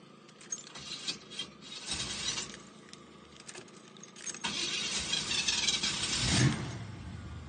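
A 1989 Chevy V8 engine cranks with a rough mechanical churning, then catches and roars into a loud, steady idle, close by.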